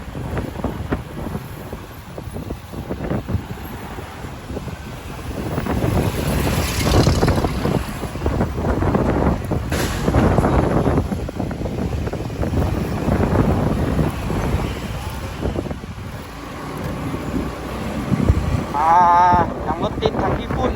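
Steady, loud buffeting wind roar while riding a motorbike through congested, dusty city traffic, continuous throughout with a brief higher warbling tone near the end.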